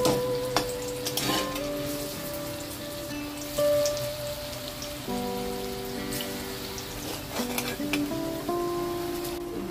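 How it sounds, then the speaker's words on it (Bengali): Raw banana dhoka pieces frying in hot white oil in a wok, giving a soft, steady rain-like crackle and sizzle with occasional utensil clinks and faint tonal background sound. "এরপর কড়াইয়ে সাদা তেল গরম করে ধোকাগুলোকে ভাজবো, এক এক করে দিয়ে দিলাম।"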